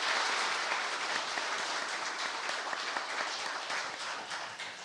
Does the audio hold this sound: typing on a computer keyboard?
no